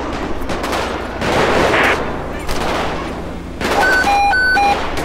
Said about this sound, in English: Ooh, shots fired.